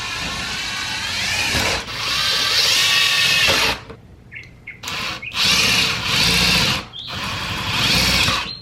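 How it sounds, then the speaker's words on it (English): A power drill bores holes into the plastic intake manifold of a 2018+ Ford Mustang GT during an IMRC delete. It whines in five close-up bursts, two longer runs, a brief pause, then shorter stop-start pulls. "let's go ahead and start drilling"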